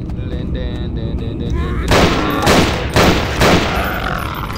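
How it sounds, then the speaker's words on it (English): Shotgun blasts in the horror video game Nightmare House 2, several loud booming shots with a heavy roar after each, firing in quick succession over a constant dense game soundtrack. "Shotgun!"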